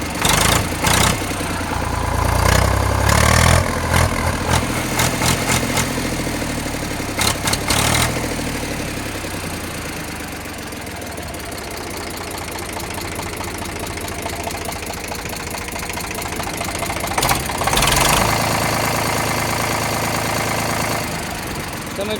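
An Eicher 368 tractor engine idles with a steady diesel knock and rumble, close and loud throughout, with a few louder bursts early and late.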